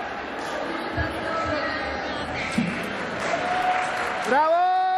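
Applause and crowd chatter for students at a school concert rise and fall beneath a nearby voice talking, ending in a brief whoop or cheer.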